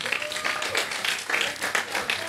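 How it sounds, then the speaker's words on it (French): Audience at a campus event applauding its funders, a short burst of fairly soft, scattered clapping from a modest group, steady throughout with no voices over it. "Je souhaitais qu'on applaudisse tous les financeurs quand même."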